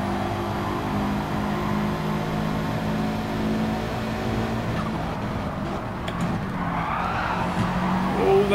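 A Nissan race car in Gran Turismo drives at speed, its engine droning steadily with a layered whine, followed near the end by tire squeal and skidding as the car struggles for grip.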